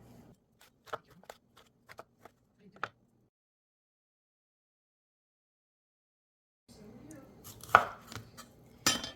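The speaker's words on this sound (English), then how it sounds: "I'm going to grate using this blender with this kind of a blade" A blender chopping yuca: a run of sharp chopping knocks, irregular and fairly close, then a pause before a louder burst of clattering blade and motor noise.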